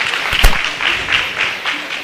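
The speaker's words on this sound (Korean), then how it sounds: "박수 한 번 더 부탁드리겠습니다." Audience applause at an education fair teacher-training session, a brief burst of clapping with a few sharp claps standing out, with a voice talking over it.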